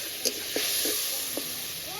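Spice masala of turmeric, salt, red chili powder and coriander powder sizzles softly in a pan after a splash of water, with a steady hiss and a few brief clinks of stirring.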